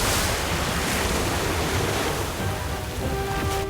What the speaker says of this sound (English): Orb of water.